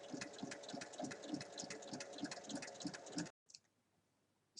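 A sewing machine seams the pieces of a rectangular cushion cover right sides together, a steady rhythmic chugging stitch close up for about three seconds before it stops abruptly into near silence.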